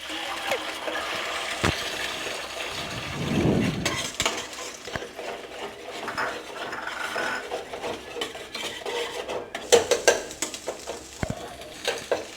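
Egg poured into a pan with cinnamon and cashews and stirred, with a brief pouring hiss followed by sizzling and irregular spatula scrapes and clinks against the metal, close and fairly loud.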